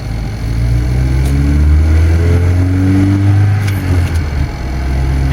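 A Volvo 240 with its stock exhaust revs up, the engine note rising and swelling in pitch before settling, loud and close with a rumbling low end and no talk.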